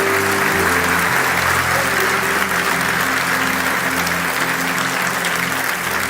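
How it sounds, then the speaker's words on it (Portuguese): A church congregation applauds loudly during a sermon, a dense, even wash of many hands clapping throughout, with sustained organ or keyboard tones underneath. "dê um forte aplauso"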